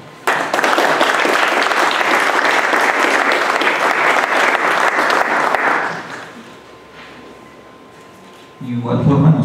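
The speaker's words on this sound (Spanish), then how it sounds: "del cual me permito darle un fuerte aplauso." Loud, dense applause fills a public security advisory committee installation ceremony for about six seconds, then fades to a quiet room before a voice resumes speaking.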